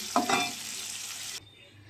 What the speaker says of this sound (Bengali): তার উচ্ছেটা আগে ভেজে নিচ্ছি